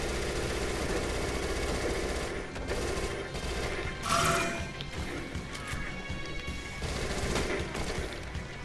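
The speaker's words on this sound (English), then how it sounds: "Nice. SMG." SMG fire in the zombie shooter Dead Nation, with steady rapid shots over a low engine-like rumble, plus occasional crashes and a brighter burst near the middle.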